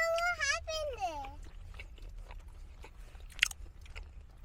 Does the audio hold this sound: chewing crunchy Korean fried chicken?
yes